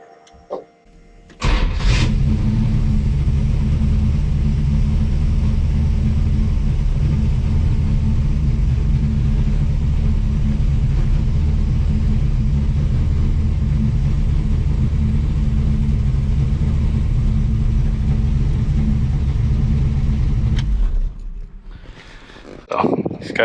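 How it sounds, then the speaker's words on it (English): A project car engine fires up after timing adjustments and settles into a steady, loud, low rumbling idle that runs continuously before cutting off near the end. "Now that I got the timing and auto adjustment dialed in, it fires right up."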